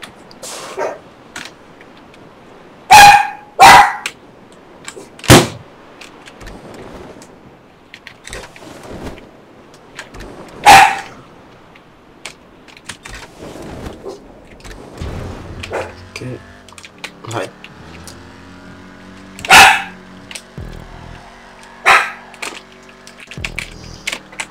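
A pet dog gives a few sharp, scattered barks close by, some in quick pairs, over soft keyboard tapping and quiet Grand Theft Auto Online game sounds.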